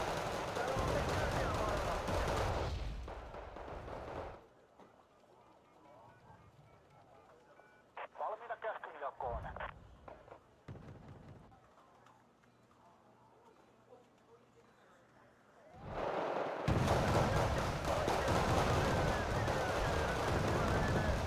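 Incoming artillery rounds in a video game battle land as loud, heavy blasts at the start and end, with a quieter middle stretch of distant rumbling and a brief burst, while a person talks throughout.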